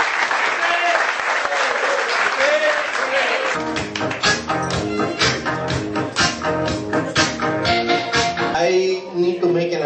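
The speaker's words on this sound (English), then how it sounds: "I think we should give a round of applause for our teachers." An audience at a St John's High School reunion applauds its teachers, dense clapping that builds into a loud, sustained ovation with voices mixed in underneath.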